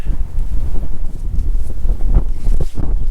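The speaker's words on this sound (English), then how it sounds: "Still a little windy though." Loud gusty wind buffets the microphone in low rumbling bursts on Grandfather Mountain, North Carolina, in freezing weather, constant and close, with no voices.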